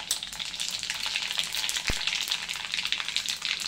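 Mustard seeds and cumin tempering in hot oil, a close, steady crackling sizzle with dense popping and one sharp tap partway through.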